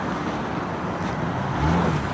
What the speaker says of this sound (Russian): Ой, какое столпотворение машин.